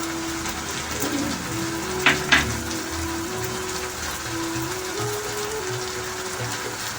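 A paste of onion, ginger and garlic frying in a pot, a soft continuous sizzle and crackle with a steady low hum beneath and two brief sharp clinks near the middle, no talking.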